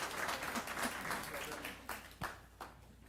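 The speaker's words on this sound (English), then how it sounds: "You can clap." Scattered applause from a small audience at a Houston police community meeting, fairly faint and thin, with a few sharper claps standing out toward the end.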